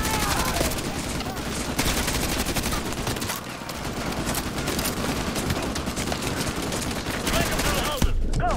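Rapid automatic gunfire and scattered shots fill a Call of Duty Modern Warfare 2 Remastered campaign street battle, dense bursts continuing throughout with voices calling out beneath.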